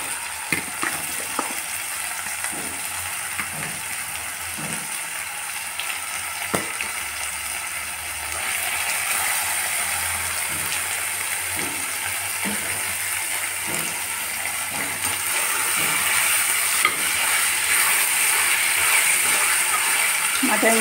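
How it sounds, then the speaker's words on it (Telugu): Mutton sizzles in a pan with ginger garlic paste for menthaku and anapaginjala, a continuous moderate frying hiss punctuated by repeated scraping and stirring clatter of a spoon against the vessel. "మటన్ కూడా వేగాలండి కాసేపు."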